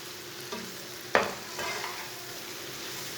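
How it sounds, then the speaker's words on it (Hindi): Beaten eggs cook in a pan for a ridge gourd and egg curry, giving a quiet, steady sizzle with a few sharp scrapes of stirring near the start and no talking. "अंडों को अच्छी तरह मिक्स करके 2 मिनट तक पका लेंगे।"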